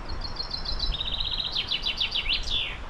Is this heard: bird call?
yes